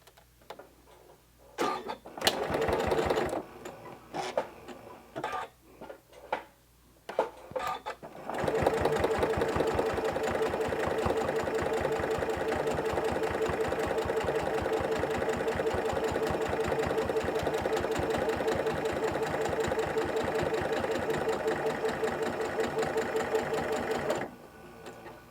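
A sewing machine stitches the side of a fabric sewing tool holder, a few short stop-start bursts of stitching followed by a long, steady, close mechanical whirring run that cuts off abruptly.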